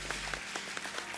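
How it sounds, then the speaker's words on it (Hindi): Brief studio audience applause at a comedy show, a quick burst of scattered claps at moderate distance. "एक बार जोरदार ताली हो"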